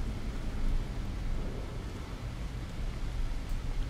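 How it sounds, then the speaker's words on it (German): A waterfall pours inside a natural cave in Skyrim, a continuous broad rushing roar of falling water with a steady, unbroken texture at moderate loudness. "Man sieht hier Wasserfall."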